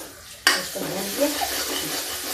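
Masala with kitchen king spice mix and fennel powder roasting in oil in a pan: a sudden loud sizzle starts and holds steady, with spoon scrapes and light clinks across it.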